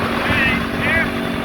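A vehicle engine running hot holds wide open throttle, giving a loud, steady drone with a wavering high whine that swells and fades twice.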